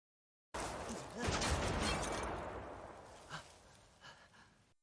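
Film scene gunfire aimed at a spotlight: a burst of shots and crashing impacts rings out, then a long fading echo with a few smaller bangs trailing off, with faint talk under it.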